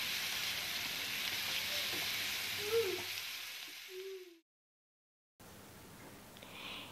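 Garlic-ginger paste sautéing with onions in a hot pan, a steady close sizzle and crackle that continues for several seconds, then cuts out abruptly before faint background noise returns.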